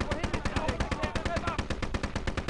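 Rapid, sustained machine gun fire in the video game Atlantic Wall, a dense even rattle of shots at close range with voices faintly mixed beneath.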